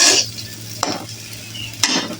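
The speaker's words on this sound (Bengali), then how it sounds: "চাউলটা আমার ভাজা হয়ে গিয়েছে। এখন পানি দিয়ে দিব।" Rice is fried and stirred in a pan, with three scraping spoon strokes over a soft, steady sizzle and short quiet gaps between strokes.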